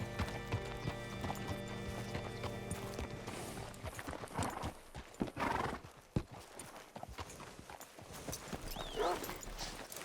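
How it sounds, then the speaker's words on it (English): Horse hooves clip-clop steadily on the ground in Red Dead Redemption 2, with a horse whinnying partway through, all set over a busy background of game ambience. "Hitch your horse up here."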